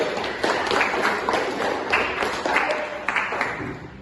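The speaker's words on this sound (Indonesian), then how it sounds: "Baik, tepuk tangan dulu." Classroom of students clapping hands together as applause, a dense, fairly steady patter of many claps lasting several seconds at moderate loudness.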